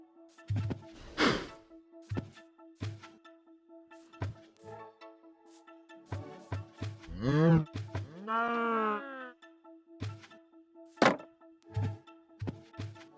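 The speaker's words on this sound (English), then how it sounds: "This is like a mutant-looking cow." Cows in the video game Minecraft moo and groan in several drawn-out calls, mixed with repeated thunking game sounds and brief voice sounds.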